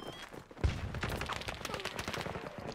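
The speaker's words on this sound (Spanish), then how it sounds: "Y disparo por todo lado ahora" Gunfire in the video game Battlefield 2042: a sharp close shot followed by a continuous spread of rattling shots and explosions, moderately faint, with game sounds throughout.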